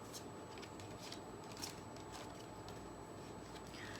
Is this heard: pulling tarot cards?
yes